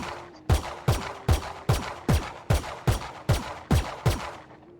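Gunfire in Valorant rings out as about ten evenly spaced, punchy single shots in a steady rhythm, each loud and sharp with a short decaying tail.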